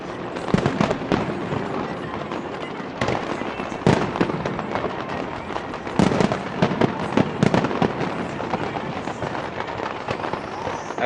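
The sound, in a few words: New Year fireworks over the Thames in London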